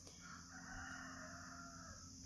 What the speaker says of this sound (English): my rooster is crowing